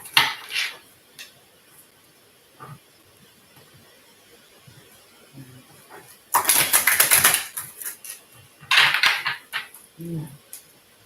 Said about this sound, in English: One more shuffle for Leo.